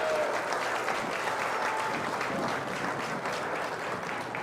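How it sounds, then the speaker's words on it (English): Steady applause from spectators at a county 4-H fair sheep show, a continuous patter of clapping heard at a moderate distance and holding evenly throughout. "How about some applause for all of our showmen out here today?"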